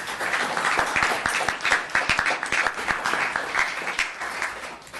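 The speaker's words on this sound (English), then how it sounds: "let's give him a round of applause." Attendees at a Los Gatos town council meeting give a round of applause, a lively mix of individual sharp claps within a fairly full crowd sound that continues steadily.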